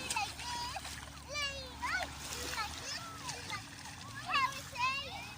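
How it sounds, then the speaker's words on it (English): Feet paddle through shallow sea water among seaweed at sunset, making soft, repeated splashes close by, while high voices call out in the background. "As I'm paddling"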